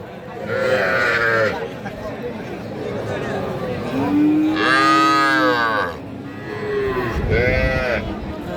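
A young bull calf moos at a cattle market, three long, loud calls spaced a few seconds apart over background chatter from the crowd.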